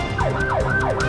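A fire truck siren wails through traffic in rising and falling sweeps, loud and steady over a low road rumble, with no voices.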